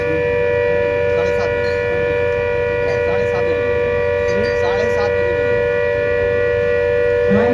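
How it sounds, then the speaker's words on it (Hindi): A civil defense siren wails steadily and loudly during a mock drill in Ballia, India, with a constant droning tone and a steady hum underneath throughout. "सायरन है जो शाम को निर्धारित समय पर बजेगा"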